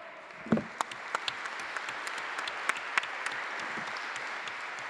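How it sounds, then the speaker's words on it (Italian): An audience applauds steadily throughout at an Italian political closing session, dense clapping with a few sharper claps standing out, no talk over it. "un applauso anche per loro"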